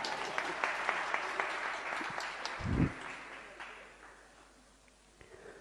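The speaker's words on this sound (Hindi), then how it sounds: "आपकी तालियों से ज्ञात होता है कि आप सुन रहे हैं।" Audience applause at a Hindi lecture, a dense burst of many hands clapping that stays steady, then thins and fades toward the end with a few scattered claps.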